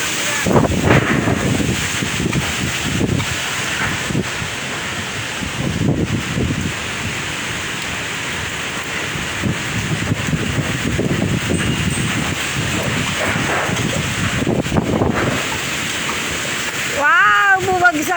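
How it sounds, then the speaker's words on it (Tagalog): Strong typhoon wind roars and gusts steadily in a yard, a dense rushing noise buffeting the microphone, with faint voices underneath. "Ang hangin malakas pa rin, hindi pa rin siya tumitila"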